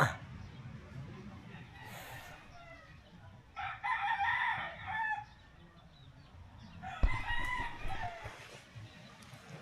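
A rooster crows a couple of times at moderate distance, with clucking fowl and people chatting nearby.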